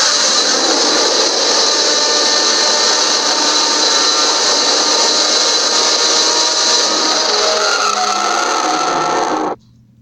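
A man vocally imitates a Godzilla roar: one long, harsh, rasping growl, loud and close, sustained for about nine seconds before it cuts off abruptly.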